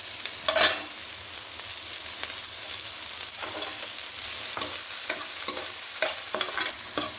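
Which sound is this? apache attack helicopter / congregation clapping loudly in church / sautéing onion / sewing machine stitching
sautéing onion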